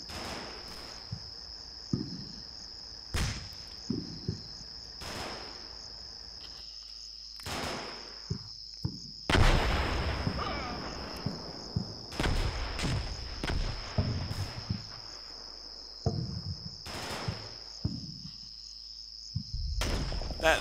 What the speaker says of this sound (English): Those larger explosions you hear is the spotting rounds coming down for the larger mortars off map, the 120mm.